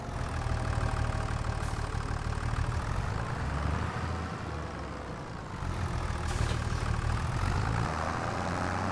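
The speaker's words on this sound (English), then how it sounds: "I'm really trying to get the balance of the audio of this tractor mixed with the audio of everything else." A tractor engine in a farming simulator game runs steadily throughout, a continuous low mechanical drone with a mid-range hum that holds at an even level, no voices present.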